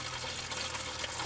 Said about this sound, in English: Yep, that's water.